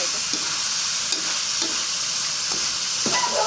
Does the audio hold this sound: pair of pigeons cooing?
no